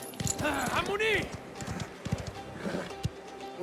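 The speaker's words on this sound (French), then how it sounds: "Tu sais vraiment foncer à cheval." A horse gallops in the video game Mafia: The Old Country, its hooves clip-clopping steadily under a loud whinny and voices talking over the action.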